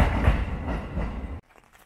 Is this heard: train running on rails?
yes